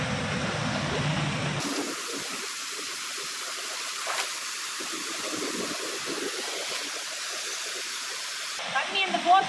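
Kodiveri waterfall near Erode pours with force, a dense continuous roar of falling water that starts abruptly and fills the scene, with brief faint sounds near the end.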